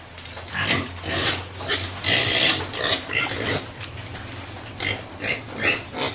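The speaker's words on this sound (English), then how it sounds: "So we are in the pig farm of the African Center for Community and Development." Pigs grunt and snuffle up close at the pig farm of a community development centre, a dense run of overlapping low grunts and squeals that rise and fall in rough bursts.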